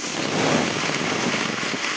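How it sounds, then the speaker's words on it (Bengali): Potatoes go into hot oil and fry, a dense, even hiss of sizzling with no voices. "এই তেলের মধ্যেই আলুগুলো দিয়ে দেবো"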